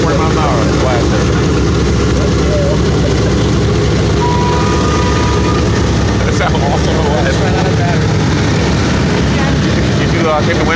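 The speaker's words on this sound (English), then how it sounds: "a huge wind blast, maybe about 40 miles an hour" Propellers on a B-17 bomber throw a loud blast of wind, a constant heavy roar of engines and rushing air that fills the whole stretch while people talk over it.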